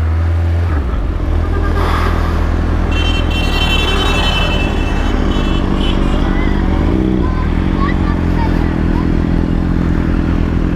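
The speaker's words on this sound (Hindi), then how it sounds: "ZX14R को हम राइड कर रहे हैं" A Kawasaki Ninja ZX14R motorcycle on a night ride, its engine a steady, loud drone from start to finish with a slight rise in revs partway through, joined by wind noise; a voice talks over it.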